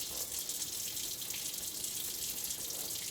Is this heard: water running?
yes